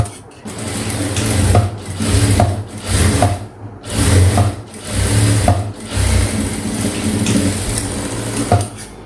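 A sewing machine stitches blouse fabric in close, loud bursts of rapid mechanical chatter, broken by short pauses between runs.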